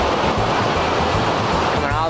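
Waterfall of cold lake water rushing down into a creek in a hiking setting, a loud steady broadband roar that fills the whole clip with no break.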